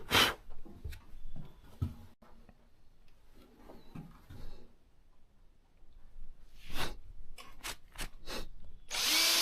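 A power drill driving screws into wood on a farm build, with scattered handling knocks and rustles followed by several short, bursty drill whines near the end, close and loud.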